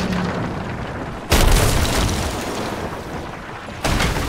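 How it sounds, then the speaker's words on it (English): Heavy cannon blasts in Sea of Thieves boom over a dense rumbling game soundscape during a ship battle, with two sharp loud bursts standing out, one early and one near the end. "Nice cannons, Loshi."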